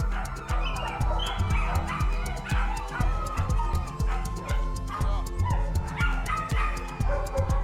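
Several dogs bark, yip and whimper in a rapid, overlapping chorus held at an animal-rescue property in South Africa, loud and close and nearly continuous.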